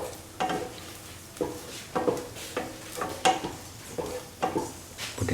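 Salt is stirred into a pumpkin shrimp curry, with a spoon scraping the pot in a steady rhythm of about eight strokes over a soft sizzle.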